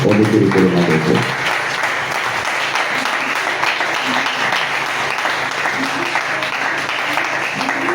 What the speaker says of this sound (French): Est-ce que tu peux acclamer très fort pour moi?